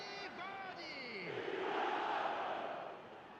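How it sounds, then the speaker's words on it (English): A football stadium crowd roars after an early goal involving Jamie Vardy, the noise swelling from under a commentator's voice into a loud, sustained wash before easing slightly. "the roof's just about stayed on, but the crowd level has gone up a notch or 10"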